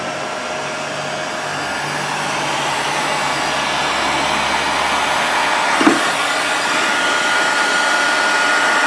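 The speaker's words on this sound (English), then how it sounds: "we're just shrinking some heat shrink here." A heat gun roars with a constant loud blowing rush while shrinking heat shrink tubing over silicone wire for a ham radio go box, with a brief knock partway through.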